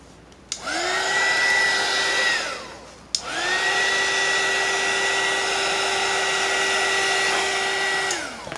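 A handheld hair dryer runs loud and steady at close range in two long bursts, with a short click off and restart between them and no talking.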